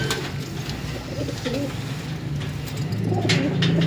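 Several Fairoz Puri piplan-breed pigeons coo in low, rolling calls close by, overlapping continuously and swelling slightly louder near the end.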